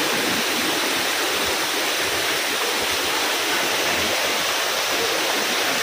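Floodwater rushes through a flooded residential neighborhood, a loud, steady broadband roar of churning water that holds constant throughout with no talking.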